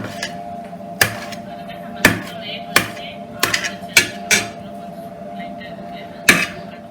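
A knife chops boiled goat blood into small pieces for a pepper fry, giving about seven sharp, separate knocks on a board at an uneven pace over a low steady hum.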